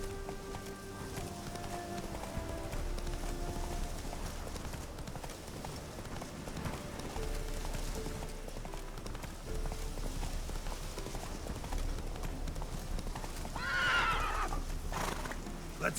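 Horse galloping and neighing in The Witcher 3 video game, rhythmic hoofbeats under music with a sharp whinny rising near the end.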